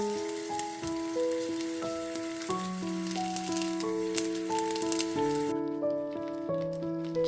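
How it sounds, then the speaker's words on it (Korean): Dumpling wrappers deep-fry in hot oil with a steady, crackling sizzle like light rain, half-buried under louder, sustained melodic music. "만두피를 튀겨주세요."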